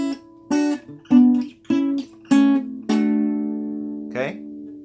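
Acoustic guitar playing a riff as a series of strummed chord hits with ringing sustain, ending on a long held chord and a final short strum, close and clear with no talking.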